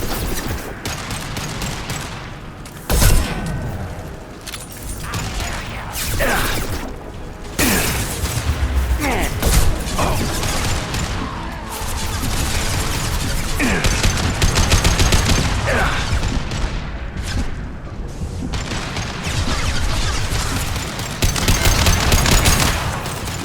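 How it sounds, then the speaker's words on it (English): Rapid gunfire from a Mass Effect Legendary Edition firefight, loud bursts and sustained volleys with booming impacts and mechanical clatter, nearly continuous throughout with brief lulls. "Stay still so I can shoot you."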